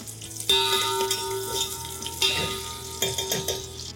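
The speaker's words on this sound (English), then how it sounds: "fry the chilies for a few seconds till they are crisp" Chilies frying in hot oil for a tadka, crackling and sizzling steadily with a few sharp pops and stirring knocks against the pan.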